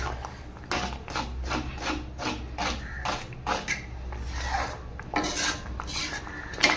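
A spatula scrapes the sides of a pan of cooking ABC malt, making repeated rhythmic rasping strokes close up over a low background hum.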